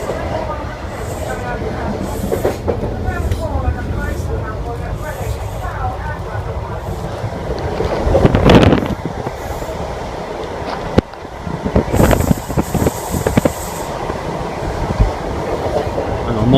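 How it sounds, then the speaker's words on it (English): A train carriage rushes through the countryside with a loud, steady rumble and rhythmic clatter over the rails, sharp squeaks and squeals rising above it, along with a burst of wind noise. "Carriage is squeaking like mad."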